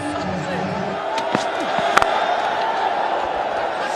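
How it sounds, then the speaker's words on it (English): Crowd at a cricket World Cup match between Bangladesh and Afghanistan roaring after a wicket, a broad sustained cheer with a few sharp claps and thumps, heard under steady stadium noise. "Excellent reaction from the crowd."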